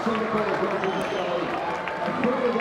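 Football stadium crowd roaring and applauding after a top-corner goal from the edge of the penalty area, a dense, steady wash of cheering and clapping with a commentator's voice running over it.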